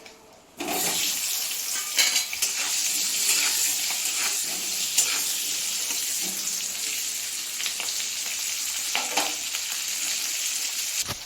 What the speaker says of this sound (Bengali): এবারে এই তেলের মধ্যেই এই আলুগুলো দিয়ে দিচ্ছি।